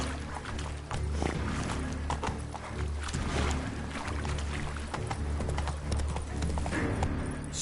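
A horse named Roach gallops steadily in the Witcher 3 video game, with rapid rhythmic clip-clopping hooves continuous and loud over a busy game soundscape.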